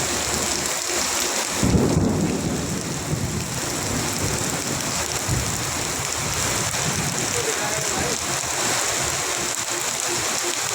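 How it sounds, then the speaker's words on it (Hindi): Heavy rain pours down steadily in a thunderstorm, with a dense, continuous roar of falling water. A low thunder rumble swells early on and stays under the downpour. "भारी बारिश चल रहा है"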